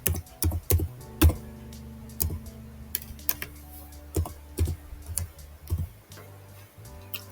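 Computer keyboard typing as a website address is entered, with irregular bursts of distinct key clicks and short pauses between them, close and fairly quiet.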